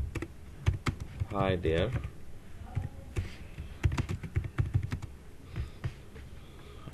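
Steady clicking of keys typed on a computer keyboard in quick irregular bursts throughout, with someone briefly speaking Bengali over it.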